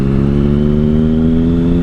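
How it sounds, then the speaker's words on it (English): A 2005 Triumph Sprint ST triple engine rumbles loudly and close through three exhaust pipes in a sustained, steady revving tone with a strong low harmonic drone, heard alone with no talk. "the sound of this triple engine out of those three pipes. It sounds absolutely awesome."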